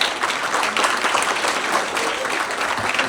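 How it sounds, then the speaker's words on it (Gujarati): Applause from an audience welcoming children at a Guru Purnima gathering in Adelaide, a dense, steady wash of many hands clapping together at close range, filling the space throughout with faint voices mixed in. "સૌથી પહેલા તો આપણે દરેક બાળકોને તાળીઓથી વધાવીએ"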